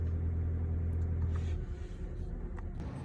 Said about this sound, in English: And you can hear the motor running.